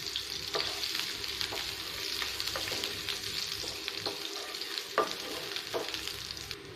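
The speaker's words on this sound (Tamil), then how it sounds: "இப்போ பூண்டு நல்லா ஃப்ரை ஆயிடுச்சு." Chopped garlic fries in hot oil with a steady, moderately quiet hiss, punctuated by several sharp spatula stirs against the pan.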